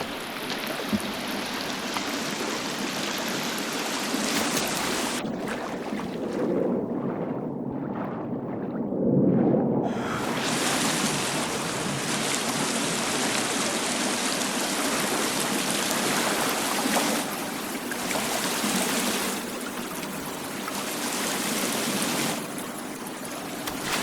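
Steady rushing of a waterfall in the survival video game The Forest, a broad continuous roar of falling water with a brief drop-out partway through and no talk.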